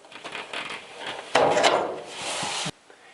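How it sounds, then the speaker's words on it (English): Clothes dryer drum belt being slid off its pulley: a close, loud rubbing and scraping burst of about a second and a half amid quieter handling and clicks, with no talk. "Take the drum belt and slide it off of this pulley."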